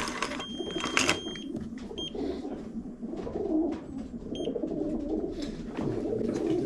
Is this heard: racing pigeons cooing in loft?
yes